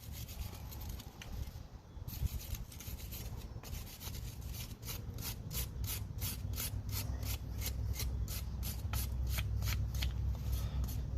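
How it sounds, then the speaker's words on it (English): Gunk is scrubbed off a factory caliper bracket from a 2022 Toyota Corolla during a front brake job, with quick, rhythmic rasping strokes up close that grow steadier and slightly louder. "factory caliper bracket, clean off all that extra gunk."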